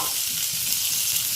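Chopped onion sizzling and frying in a pan for sweet potato masala, a steady bright hiss with the soft scrape of stirring underneath.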